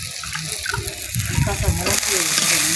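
Onions sizzle and crackle as they fry in a pan for Bengali aloo bhorta, with scraping stirs and a voice talking over the cooking.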